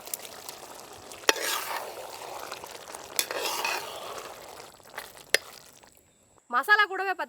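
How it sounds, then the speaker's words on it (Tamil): Masala with tamarind water bubbling in a pan for a dry fish and brinjal thokku, a faint steady hiss and gentle bubbling with a few sharp utensil taps, followed by someone speaking near the end. "மசாலா பார்த்தீங்கன்னா நல்லா கொதிச்சுட்டு இருக்குங்க"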